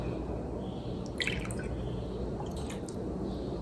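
Bacardi rum poured into a buttermilk mixture in a bowl, a soft liquid trickle with a few faint splashes and drips over low background hum.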